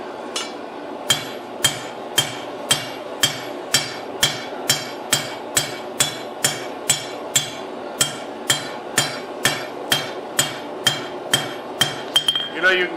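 Rapid, regular hammer blows planish a steel knife blade, over twenty bright clinking strikes at a steady pace, up close, with a faint voice beneath.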